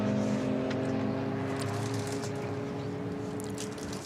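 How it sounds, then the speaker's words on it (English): An alternative-fuel Audi race car, number 75, pulls into the pit lane during a six-hour endurance race at the Nürburgring, its engine a steady droning hum that stays fairly level and slowly fades. "Someone's coming in to get some now, because that's the alternative fuel Audi car number 75"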